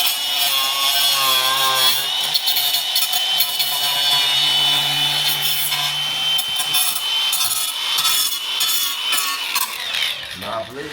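Grinding tool working over small points on a plastic car rear bumper during repair, a steady, loud abrasive whir running almost unbroken throughout with slight variations in pitch and pressure.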